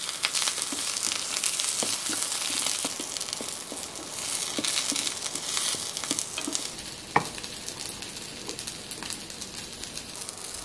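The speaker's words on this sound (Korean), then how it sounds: "오일 둘러주고 앞뒤로 오일을 코팅하면서 구우세요." Eggplant frying in oil in a pan, a steady dense sizzle with scattered crackles and a single sharp pop near the end, no voices.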